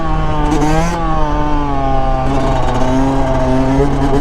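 A loud 150cc motorbike engine revs close by, its droning pitch dipping and climbing again in sustained throttle blips with no pause.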